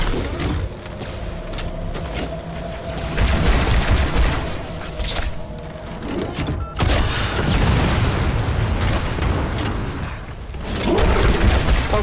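Heavy rocket launcher blasts in the Halo 2 Quarantine Zone mission, several loud booming explosions rolling in bursts with rumbling tails and gunfire-like clatter between them.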